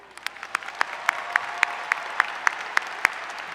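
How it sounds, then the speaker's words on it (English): An audience claps steadily at the 2016 FIRST Championship welcome ceremony. It is a dense, even wash of applause with regular sharper claps near the microphone, with no voices over it. "Give yourselves a round of applause."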